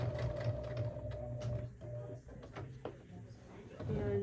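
A sewing machine runs in short bursts as it stitches across the top of a fabric tote bag, the motor whirring and stopping near the listener while a person talks over it.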